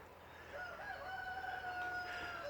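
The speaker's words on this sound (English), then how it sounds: "I've got a chicken climbing a tree" A rooster crows on a farm, its long drawn-out call clear over steady outdoor background noise, with no one talking.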